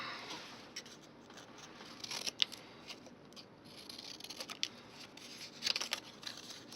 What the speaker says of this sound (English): So what I'm going to do is I'm going to cut a small tag here.